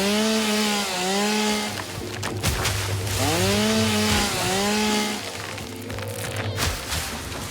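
A chainsaw runs in the game Satisfactory, a continuous mechanical whine that rises and falls in pitch as it revs, close and fairly loud, with no talk over it.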